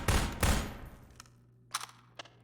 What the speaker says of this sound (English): How did those gunshots sound?